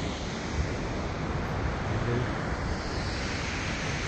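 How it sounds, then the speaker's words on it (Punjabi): Waipunga Falls, a waterfall in New Zealand, gives off a dense, constant roar of rushing water, steady and loud with no break. "ਝਰਨਾ ਇੱਧਰੋਂ ਹੀ ਪਾਣੀ ਆ ਰਿਹਾ"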